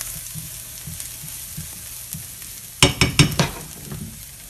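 Shallots sweating gently in a pan, a soft steady sizzle with faint stirring taps, then a cluster of louder clattering utensil knocks near the end.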